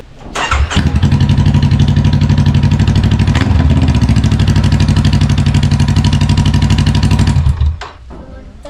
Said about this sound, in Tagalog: Patunogin muna natin yung walang pipe, yung open pipe. Pakinggan natin kung anong tunog.